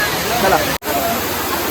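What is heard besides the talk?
waterfall on Lohagad mountain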